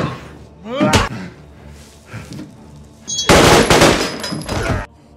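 Film gunfire as a man shoots a cannibal near a barn: a sharp shot early on, then a loud burst of rapid blasts, near and harsh, with scattered softer sounds between.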